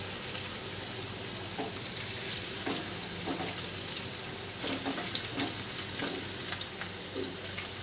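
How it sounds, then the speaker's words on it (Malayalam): Mackerel sizzles steadily in hot oil, a continuous close crackling hiss with small pops and spatters throughout. "നമുക്ക് ഈ അയിലയൊന്ന് ജസ്റ്റ് വറുത്തെടുക്കാം."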